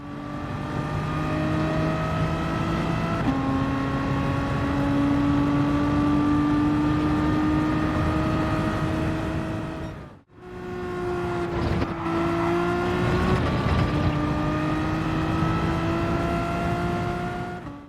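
Race cars at Brands Hatch in Gran Turismo 7 scream along with high, tonal engine whine shifting pitch through gears, loud and continuous, with a brief dip before resuming.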